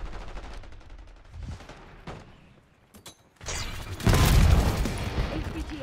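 Bursts of video game gunfire, scattered shots early on, then a loud sustained fusillade of rapid machine-gun fire and booms near the end, with no talking.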